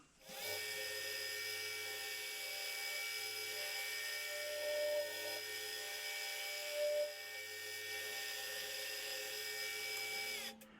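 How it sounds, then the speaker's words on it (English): A machine cutting with an 8mm cutter while working a boring and facing head part whines steadily and evenly for about ten seconds, with tonal overtones and no voices. "going in with an 8mm cutter just to open them up, make it easier on the 5/8 cutter"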